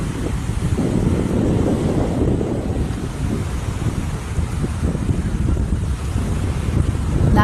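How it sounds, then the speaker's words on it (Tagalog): Strong coastal wind buffets the microphone in continuous loud gusts before rain at El Nido, Palawan, with waves and surf rumbling underneath; no voices. "Malakas ang ihip ng hangin dahil mukhang uulan na naman"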